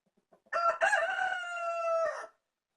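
A rooster crows once, loud and close, a single drawn-out cock-a-doodle-doo lasting nearly two seconds after a few faint clucks, then silence.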